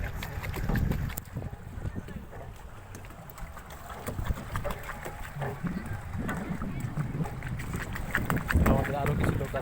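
Boat ride on open water at Green Valley Park in Lalpur, Natore, under harsh sun, with a constant rumble of wind buffeting and water noise, while people talk nearby.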